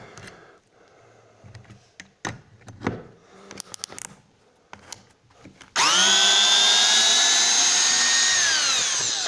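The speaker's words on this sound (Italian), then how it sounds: "Per svitarlo ho dovuto mettere la modalità trapano" A cordless 18V drill-driver set to drill mode unscrews a screw: a few handling clicks and knocks first, then the motor bursts in with a loud, steady whine that dips slightly in pitch and runs to the end.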